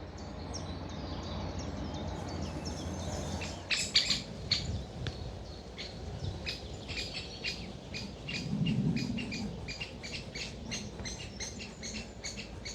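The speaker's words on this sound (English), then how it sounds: "if you want to know how to listen out for great woodpeckers, that's what you want to listen for" Repeated sharp calls of a great woodpecker ring out in quiet woodland, a steady series of clear chips over faint ambient hiss with other soft birdsong.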